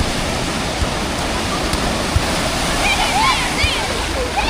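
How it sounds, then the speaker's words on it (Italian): Ocean surf rolling in along the coast at Lima, Peru, a steady broad roar of breaking waves heard loud and close under wind, with faint chirping sounds toward the end. "Qua si può fare surf, ci sono le onde."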